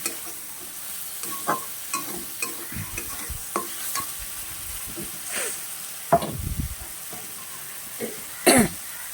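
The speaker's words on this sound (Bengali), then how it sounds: "তো ভালো করে ভাজতে হবে, অলরেডি একটু কষাই করতে হবে।" Potatoes for a vegetarian aloo dum being stirred as they fry in oil, with scraping spoon strokes and a steady low sizzle, close and fairly loud; a spoon knocks against the pan near the end.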